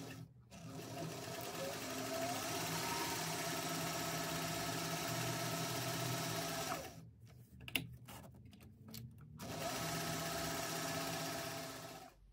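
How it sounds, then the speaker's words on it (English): A sewing machine stitches a zip onto a bag with a narrow seam, running steadily for about seven seconds, pausing with a few short bursts and clicks, then running continuously again. "Now I'm going to sew that in place with an 1/8 inch seam allowance."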